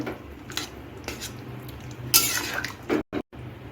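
Vegetables and water being stirred in a cooking pot for chirer khichuri, with faint wet swishes and a few soft scrapes and clinks of utensil against metal, quiet and close, no talking.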